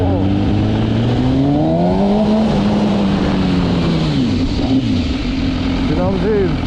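A 2018 MV Agusta motorcycle engine rising and falling in pitch as the rider accelerates on the road, loud and close, with wind noise throughout and someone talking over it.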